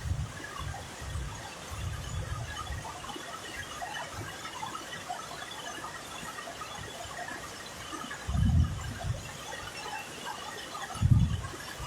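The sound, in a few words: torrential rain pouring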